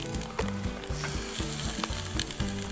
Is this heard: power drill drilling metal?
no